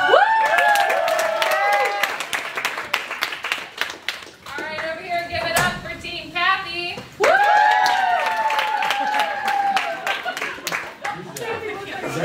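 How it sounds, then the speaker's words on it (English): An audience claps for a team introduced in a classroom game show, a crisp scattered patter of hands that runs throughout while people talk and cheer over it. "Give them a round of applause."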